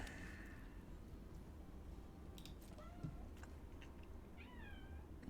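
A kitten meows from behind a closed door, several rising and falling cries spread across the stretch, faint and somewhat muffled over a steady low hum.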